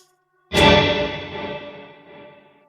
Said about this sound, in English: the delay repeats in this case are all recorded in monaural sound